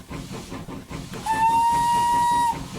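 In Train Simulator 2021, a Hudswell Clarke contractors' tank steam locomotive chuffs rhythmically, then a loud sustained steam whistle blows for over a second before cutting off.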